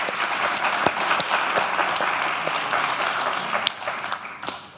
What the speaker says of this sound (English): big round of applause for Sonia